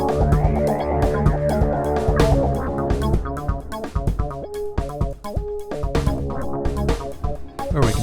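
A full mix with punchy kick drums and busy percussion runs through the Airwindows Texturize plugin. It plays dense and loud for eight seconds with sharp rhythmic hits and no talking.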